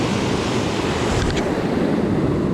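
Ocean surf breaking on a beach during striped bass surf fishing, a loud, continuous roar of waves with wind buffeting the microphone and no voices.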